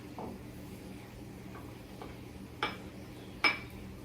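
Eggplant goes skin side down into a pan with about a tablespoon of olive oil, making a couple of sharp clinks against quiet kitchen background.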